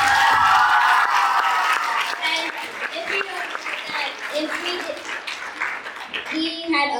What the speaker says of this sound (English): So now it's our turn to cheer you guys on.